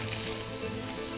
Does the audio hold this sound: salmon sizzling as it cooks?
yes